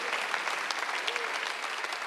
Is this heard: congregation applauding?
yes